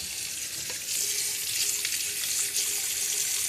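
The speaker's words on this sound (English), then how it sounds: "We'll put some boiling hot water in there." Hot water poured and splashing into a frying pan during washing, a steady broadband hiss and sizzle filling the clip at close range with no talk.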